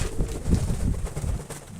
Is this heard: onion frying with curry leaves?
no